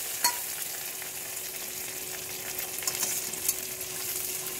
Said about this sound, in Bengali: এখন মশলাটা সুন্দর করে কষে নেব।